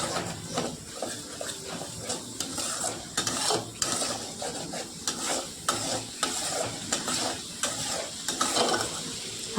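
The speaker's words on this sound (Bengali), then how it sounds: "আমি জিরে গন্ধ না থাকার জন্য ভালো করে কষে নিচ্ছি, যতক্ষণ না তেল বেরোবে মশলা থেকে" A cumin-laced spice paste fries and sizzles in oil in a pan for a vegetarian curry, under repeated rhythmic stirring and scraping of a spoon against the metal. Steady bursts of scraping ride over the continuous sizzle, with no talk.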